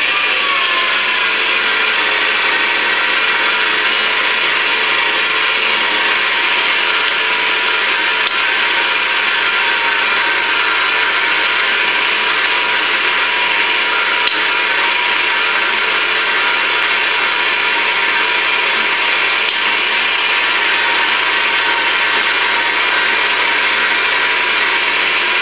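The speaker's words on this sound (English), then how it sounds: "My mixer is fixed to number one. And here goes the noise." Electric stand mixer set to its lowest speed, kneading spanakopita dough, gives a steady, loud mechanical whir with a faint ratcheting grind that runs unchanged and alone throughout.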